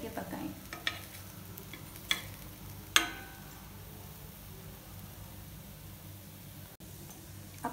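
Chana dal vadas cook in a little oil on a tawa, giving a faint, low sizzle punctuated by a few sharp spatula scrapes as they are flipped.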